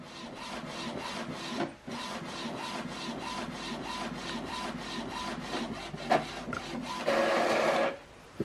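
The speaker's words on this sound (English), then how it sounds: "It's printing out the alignment." An Epson WF-2930 inkjet printer runs an alignment page, its print head shuttling back and forth in steady repeated rasping passes, close and continuous, with a brief pause near the start and a busier whir of paper feed toward the end.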